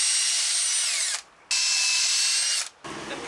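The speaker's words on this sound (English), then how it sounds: "I'm going to drill 2 holes for the eyes." A power drill whines as it bores two small holes into a wooden log, two sustained high-pitched runs separated by short pauses, close and loud.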